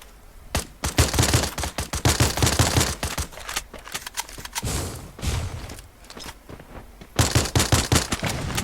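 Loud, rapid gunfire from the Free Fire battle game rattles in repeated bursts and sustained volleys, with short gaps between strings of shots and a heavy burst near the end.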